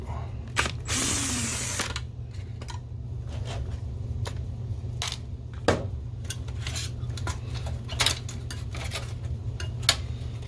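A screw is worked loose from a Mitsubishi WD720U projector during repair, with close metallic clicks, ratcheting taps and small tool clatters over a steady low mechanical hum.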